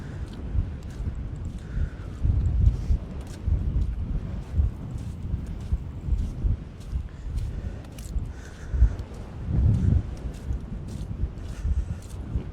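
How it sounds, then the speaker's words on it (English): Strong wind buffeting a microphone, making irregular low rumbling gusts and thumps that swell and fade throughout, loud and close, with a few faint scattered clicks. "Wind is still very strong."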